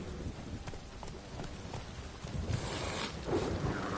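Roach the horse gallops in The Witcher 3: Wild Hunt, a steady, rhythmic clip-clop of hooves running continuously over a dense game background.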